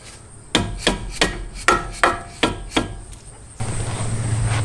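A rubber hammer taps bolts out of a Ford Escape strut's lower mount: seven sharp, evenly spaced knocks close by, followed by a steady hiss of background noise.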